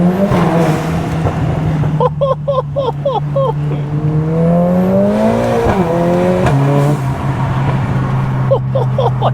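Mercedes A45S AMG with a new, wider-bore exhaust, engine warm, revving and accelerating with a deep rising drone broken by rapid bursts of exhaust pops and crackles, loud and close throughout.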